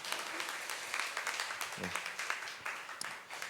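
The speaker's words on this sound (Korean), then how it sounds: "우리 니키 목사님께 우리 박수 한번 보내주시면 감사하겠습니다" Church congregation applauding for a pastor after a young adults' Sunday worship sermon, a continuous wash of clapping from a crowd heard at moderate distance, with faint voices mixed in.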